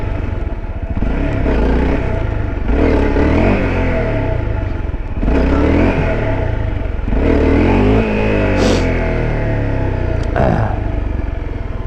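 A motorcycle being ridden in wheelie practice revs hard over and over, its throttle climbing and dropping in loud repeated surges close by.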